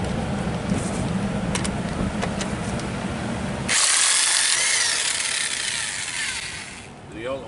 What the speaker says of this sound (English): Electric impact does it.